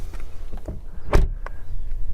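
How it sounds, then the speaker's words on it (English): A Mercedes-Benz GLE SUV front door shuts with one solid, close thud, followed by faint rattles and handling noises. "Front door sounds solid."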